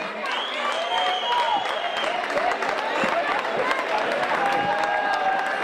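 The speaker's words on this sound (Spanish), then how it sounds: "¡Fuerte aplauso!" Crowd applause rings out at a mountain bike race prize-giving for three champions, steady dense clapping lasting throughout with voices and a speaker talking over it.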